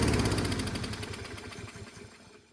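Kohler engine on a Toro 22-inch Recycler lawnmower running with a buzzing, pulsing drone that starts loud and gradually fades as it winds down, no voices.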